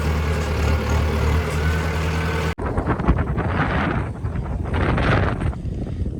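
Strong wind gusting loudly outdoors, buffeting the microphone with a low roar that stays constant through the whole stretch, after a brief cut partway in, with no voices heard.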